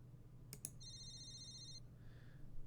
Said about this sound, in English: A beeping noise suddenly emanates from Miss Ibarazaki's pocket